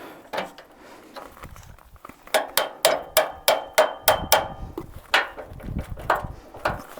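A small crowbar taps and pries on a 1963 Reliant Regal, giving a quick series of about a dozen sharp, close metallic knocks in a steady rhythm, with a few softer knocks around them.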